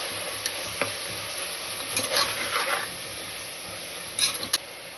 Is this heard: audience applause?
no